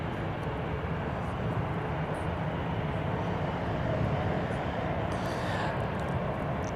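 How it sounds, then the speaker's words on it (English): A Southwest Airlines jet bound for Denver taxis toward the runway at Seattle-Tacoma airport, its engines giving a steady, even rumble and whine that stays constant throughout with no voices. "this Southwest flight that is about to hop on the runway here"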